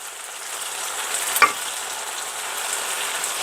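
Eggplant frying in a pan for a binagoongan dish, a steady broadband sizzle with one brief louder crackle or stir partway through, no voices.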